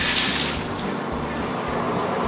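Water from a tap rinses rust and mill scale off a piece of metal, a steady close splashing hiss that runs continuously from start to finish.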